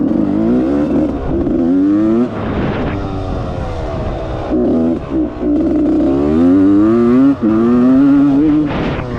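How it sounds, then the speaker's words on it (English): A rebuilt Suzuki RM125 two-stroke dirt bike engine bogs and stutters under partial throttle, its loud, close buzzing note rising and dropping with uneven revs and brief stumbles. "It bogs when you give it a little bit of throttle though, like this."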